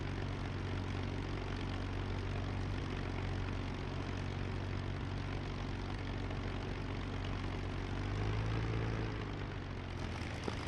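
A P-51 Mustang propeller engine taxiing in DCS World, with a steady loud droning rumble that swells slightly near the end and continues without talk.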